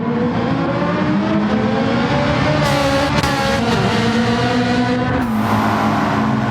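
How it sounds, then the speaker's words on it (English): Ferrari race cars battling on track in Gran Turismo 7, a loud continuous engine roar with rising and falling revs and a shift in pitch near the end, with no talk. "the two Ferraris going at it"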